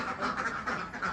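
Ducks quacking steadily in a production duck pen, a dense, continuous chorus of many birds close by with overlapping nasal calls and no talk.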